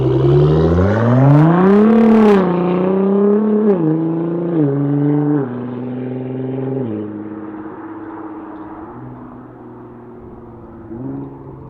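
A Nissan GT-R fitted with a BOOSTLOGIC 4.5-inch titanium exhaust revs hard and loud up close, its engine note climbing, then stepping down through a series of downshifts and settling into a lower, fading drone.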